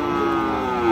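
Friesian and crossbred bull calves at a cattle market give a single long, loud, tonal moo that carries through the whole second and swells slightly at the end, close to the microphone.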